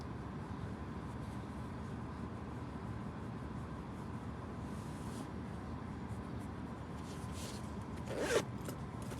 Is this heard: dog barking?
no